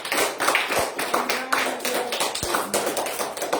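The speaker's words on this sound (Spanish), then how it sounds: "Denle un fuerte aplauso al Señor" Congregation applause fills a church during a Spanish-language Saturday service, dense steady clapping lasting the whole stretch with a faint tone sustained beneath, loud and close throughout.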